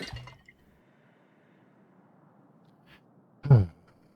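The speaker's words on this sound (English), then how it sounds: "let's pour us another one over here." Liquid poured in the video game Book of Hours, a short glassy splash at the start followed by near silence, then a louder brief splash and clink a few seconds later, with no talk.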